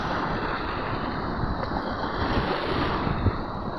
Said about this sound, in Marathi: आपण आनंद घेत आहोत लाटांच्या उसळ्यांचा